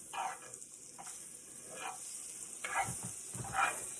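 A steady high sizzle of butter frying in a pan, with occasional scraping and stirring sounds breaking through.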